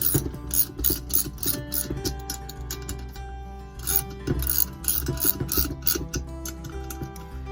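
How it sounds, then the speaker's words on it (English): Head nuts on a two-stroke bicycle engine are being tightened with a socket wrench, producing rapid clicking ratchet ticks in short bursts, close and fairly loud, with no talking. "Get my wrench, socket wrench. Just make sure everything is tight, evenly tight."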